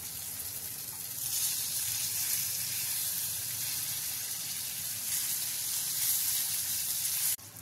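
Surmai fish slices frying in hot oil in a pan, a steady, even sizzling hiss held close and constant, cut off by a brief knock near the end.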